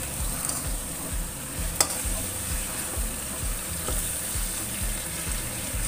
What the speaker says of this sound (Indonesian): kita buka, lalu kita oseng kembali